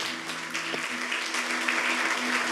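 A church congregation claps steadily at a family service in a dense, continuous patter of applause, with a sustained low hum beneath it.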